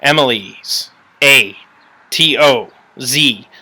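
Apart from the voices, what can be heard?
No distinct noise like a dog, phone or traffic.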